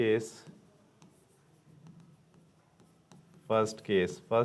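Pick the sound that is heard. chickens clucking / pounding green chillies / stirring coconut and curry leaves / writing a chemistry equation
writing a chemistry equation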